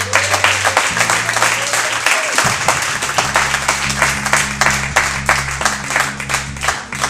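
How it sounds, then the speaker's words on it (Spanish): A church congregation applauds at a service, with steady dense clapping from many hands over sustained low keyboard chords that hold and shift underneath. "¿Alguien le puede dar un aplauso?"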